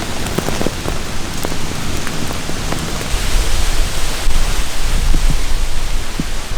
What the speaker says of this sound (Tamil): கச்சை மழை பயங்கரமாக அடிக்க ஆரம்பிச்சிட்டாமுக்கா